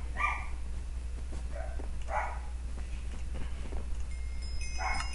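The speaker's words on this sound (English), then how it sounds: "Oh my god, dogs, shut up." Two pet dogs, puppies, bark in a few scattered, sharp outbursts, fairly faint and somewhat distant over a low steady hum.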